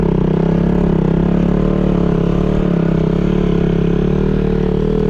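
A KTM or Bajaj Pulsar motorcycle engine drones steadily and loudly while riding through sand, a continuous close rumble with no voices.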